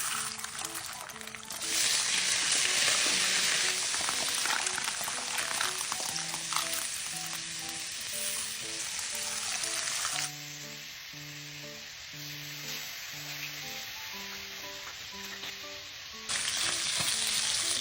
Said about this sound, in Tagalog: nagisa ko lang yung pork at nagmantika na siya, kaya naman inilagay ko na yung bawang at sibuyas at igigisa lang din yan ng maigi